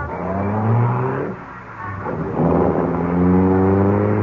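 A car drives off in a radio drama sound effect: a loud, close engine roar that dips briefly, then swells again as it pulls away, with no voices.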